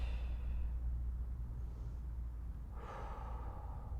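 Breathing during a stretching routine: a soft, drawn-out breath in, then a stronger, breathy exhale near the end, close to the microphone with no talking.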